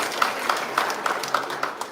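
Audience applauding the cast and crew of the musical The Prom at a Pride Month proclamation signing, a steady wash of clapping with faint talk underneath.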